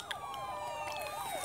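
Police car sirens wail in The Walking Dead video game, several overlapping rising and falling tones cycling steadily at moderate distance.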